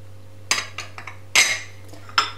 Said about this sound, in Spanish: Después ponemos fideos